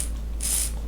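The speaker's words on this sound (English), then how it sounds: "we're going to keep on spraying them" A plastic spray bottle mists water over a seed tray of chilli seedlings, giving a single short, close hiss of about half a second that starts and stops abruptly.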